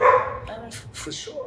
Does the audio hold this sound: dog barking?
yes